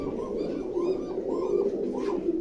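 Giribaz pigeons coo in a loft, a series of soft rolling throaty coos repeating rhythmically, close and clear over a steady low murmur.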